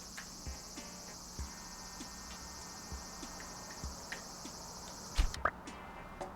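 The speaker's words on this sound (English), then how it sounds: "I caught a large brown cicada." A large brown cicada in the Animal Crossing video game drones with a continuous, shrill, buzzing chirp, loud and steady for several seconds, then cuts off abruptly after a sharp click.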